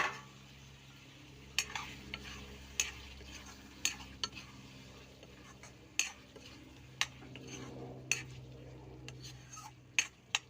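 Tomatoes fry in a pan with shol fish, giving a quiet, steady sizzle broken by sharp clinks and scrapes of a spoon stirring against the pan at irregular intervals.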